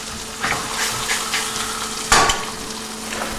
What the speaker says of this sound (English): I love pan sauces where you can put something right in the saute pan, make the sauce right in the pan.